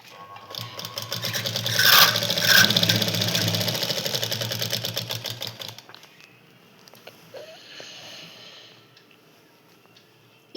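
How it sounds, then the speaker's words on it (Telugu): Sewing machine stitching tape along a garment edge, a loud steady whirring run for about six seconds that then stops, leaving faint handling noises. "ఇప్పుడు ఈ 15కి ఒక స్టిచ్ వేసుకోండి ఇక్కడికి."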